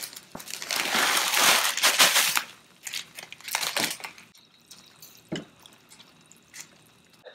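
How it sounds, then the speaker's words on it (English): Dry pasta poured into a pot of cooking water, giving a close rustling, crinkling rush followed by scattered drips and light splashes that fade out. "I'm going to put in the pasta now."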